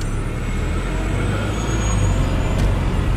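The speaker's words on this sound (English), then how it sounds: "You wanna go ahead and shoot with the garbage truck?" A garbage truck idles or runs on a city street in a Cleveland, Ohio neighborhood, a steady, loud low engine rumble with traffic noise throughout.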